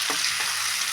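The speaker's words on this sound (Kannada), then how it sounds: "ಸ್ವಲ್ಪ ಎಣ್ಣೆಯಲ್ಲೇ ಬೇಯಲಿ." Brinjal with onion-tomato masala frying in oil in a pan, a steady loud sizzle with a few quick stirring scrapes, close up and with no voices.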